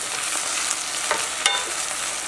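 Beans with cumin powder, oregano, shredded ginger and salt being stirred in a pan, a steady bright frying hiss with a few scraping spoon strokes, close and alone.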